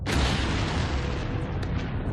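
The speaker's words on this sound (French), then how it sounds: "l'explosion atomique d'Hiroshima livre enfin de surprenants indices" An atomic bomb explosion like the Hiroshima blast: a loud, sustained, deep rumbling roar that stays heavy across the whole stretch, with no voices.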